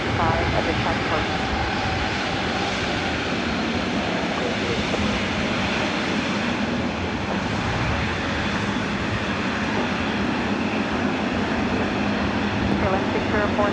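A KLM jet airliner takes off from runway 24 right at LAX, its engines a steady, loud broadband roar that holds for the whole stretch, with radio-style voice chatter running underneath.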